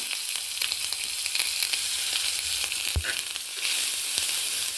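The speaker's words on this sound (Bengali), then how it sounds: "পেঁয়াজ বাটাটা একটু তেলের উপরে ভেজে নেব" Onion paste fries in oil tempered with black mustard seeds and dried red chili, a constant close sizzle with scattered crackles, one sharp pop and a brief louder surge near the end.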